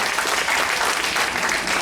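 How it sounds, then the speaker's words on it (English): An audience at a cultural gathering in Guyana applauds the Prime Minister, a loud, dense and sustained burst of clapping that holds steady throughout. "Kindly give the Prime Minister a big round of applause here"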